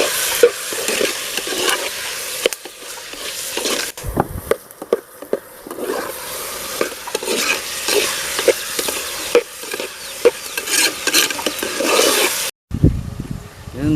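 Rock salt being stirred and fried in a pan during outdoor village cooking of turtle curry, a dense continuous sizzle with scraping stir strokes, loud and close, no talk, ending in a brief cut.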